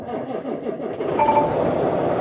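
A truck engine cranks and catches close by, then settles into a steady, loud running rumble.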